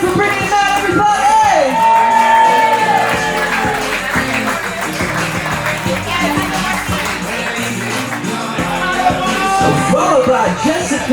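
Garden wedding guests keep up a steady wall of cheering, whooping and clapping for the wedding party, loud and continuous with scattered shouts and yells.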